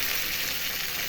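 Water poured into frying potatoes in hot oil for a paneer curry, a loud, steady, hissing sizzle that fills the clip with no talking.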